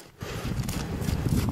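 Horse hooves clip-clop steadily on a rocky mountain trail on Elbrus, a quick, close run of hoofbeats that starts after a brief quiet moment.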